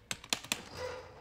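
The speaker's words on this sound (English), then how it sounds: "All of these joints you're hearing, almost all are ratchet." Ratchet joints in the leg of a Hot Toys battle-damaged Thanos sixth scale figure give four quick, faint clicks close by, then quiet room tone with no voice.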